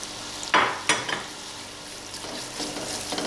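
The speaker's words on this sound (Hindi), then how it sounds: "ये मैं थोड़ा थोड़ा डालती जाऊंगी और इसको मैं मसाले को भूनती जाऊंगी।" Masala with yogurt and onion frying in mustard oil, a low close sizzle punctuated by two loud spatters or scrapes early on, then softer stirring under medium heat.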